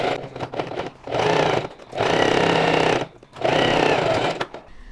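Sewing machine stitching darts on a Chanel-style jacket, running in three sustained buzzing bursts separated by short pauses, loud and close with no talking.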